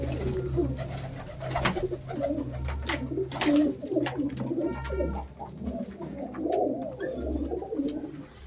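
Punjabi Malwai pigeons coo repeatedly at close range, with soft rolling calls that overlap in an irregular rhythm. Occasional clicks and wing rustles come through between the calls.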